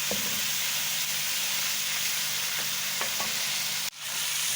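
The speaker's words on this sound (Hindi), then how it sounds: "थोड़ा सा हम अपना मसाला डालेंगे, भून लेंगे इसको थोड़ा सा।" Spice masala frying in a pan for a potato and fenugreek curry, a steady close sizzle with a few light stirring scrapes and a short dip near the end.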